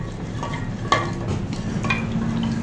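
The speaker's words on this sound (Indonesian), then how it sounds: "Lalu kita aduk seperti ini guys." A warm laundry antiseptic mixture is stirred by hand, giving a steady swishing churn with a few sharper knocks of the stirrer against the container, close and continuous, with no voices.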